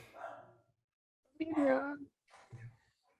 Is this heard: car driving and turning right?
no